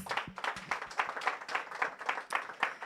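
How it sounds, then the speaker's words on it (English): Audience applause at a campaign launch for a connectivity service, a crowd clapping in a steady, brisk patter at moderate distance, with no speech over it. "another round of applause"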